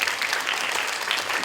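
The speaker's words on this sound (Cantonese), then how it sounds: "不如大家俾掌聲我聽下先啦" An audience at a youth summer stage show in Hong Kong breaks into a short burst of dense, even applause, with many hands clapping together at close range.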